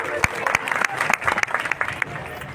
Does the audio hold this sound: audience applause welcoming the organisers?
yes